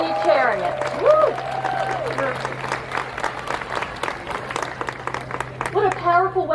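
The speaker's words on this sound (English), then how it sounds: "how about another big round of applause for that fabulous performance by our students" Audience applauding after a student trumpet performance at a university alumni house, scattered clapping and cheers beneath loud, excited talking and whooping voices.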